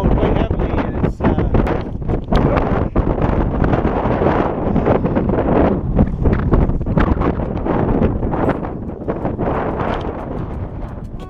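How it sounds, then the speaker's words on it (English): Strong wind roaring across the microphone at Lamjora Pass in Nepal in winter, a loud, continuous buffeting rumble with gusty fluctuations throughout and no clear speech. "The wind's blowing quite heavily"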